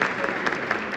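An audience claps at an event, dense applause filling a brief moment with a voice speaking over it.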